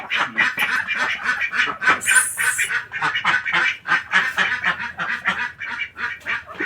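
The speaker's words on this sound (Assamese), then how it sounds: "চীনা হাঁহ" Chinese geese honk loudly and continuously at close range in a rural Assamese home garden, with overlapping calls from several birds forming a dense, rapid rhythm throughout.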